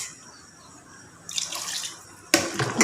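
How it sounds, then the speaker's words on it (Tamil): Water poured in a splashing stream into a cooking pot of mutton dalcha with ground chilli, starting partway through and briefly breaking off before resuming louder, close by with no talk. "தண்ணி கொஞ்சம் ஊற்றிக்குவோம்."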